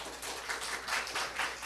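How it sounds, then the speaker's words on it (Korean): Korean church congregation applauding during a Sunday sermon, a brief burst of rhythmic group clapping in pulsing waves, moderately loud and unaccompanied by talk. "우리 하나님께 박수 올려드려요."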